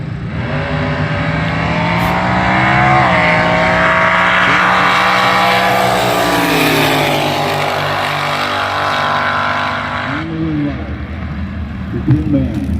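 A front-engine slingshot dragster with a 140-inch wheelbase Rudy Gilmore chassis and an injected small-block Chevrolet roars loudly and steadily down the strip at a drag race, its pitch rising and bending before fading. An announcer talks over it.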